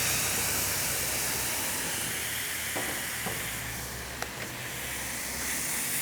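Shaved flank steak in a reserved curry marinade sizzles hard on a hot griddle, a steady loud hiss with faint scrapes and clicks, no voices.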